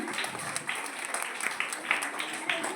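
An audience at a school Onam celebration applauds the parents, giving a steady patter of many hands clapping at moderate volume, with no talk over it.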